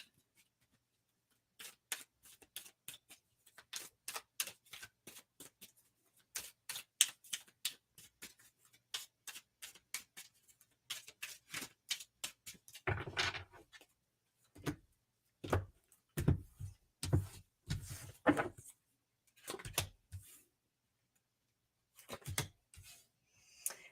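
Tarot cards being shuffled by hand: bursts of quick, crisp riffling clicks and soft slaps in irregular groups. They grow heavier and thumpier midway, close up, with no talking.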